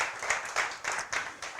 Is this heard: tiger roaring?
no